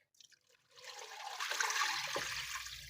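Water pouring from a jug into a pan for chicken corn soup, a soft splashing rush that starts after a few faint taps and continues steadily, fairly quiet and close.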